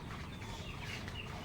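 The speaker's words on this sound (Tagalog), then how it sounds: "Ito yung mga manok, oh." Chickens on a rural Philippine farm area clucking softly nearby, a short faint stretch of low murmuring hen sounds with some background noise.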